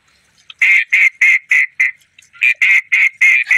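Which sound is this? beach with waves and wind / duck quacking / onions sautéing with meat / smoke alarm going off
duck quacking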